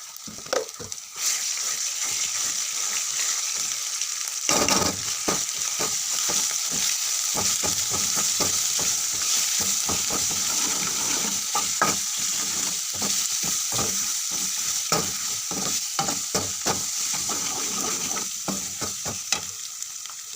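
Ginger garlic paste fries with a steady loud sizzle in a pan for chicken curry, while a spoon scrapes and stirs in frequent irregular clicks throughout, with no talk.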